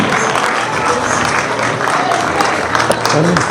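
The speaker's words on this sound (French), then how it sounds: "Applaudissons pour les élèves." Audience applauding the pupils at a school event at École Les Rossignols, a loud, continuous crowd clapping with murmuring voices mixed in throughout.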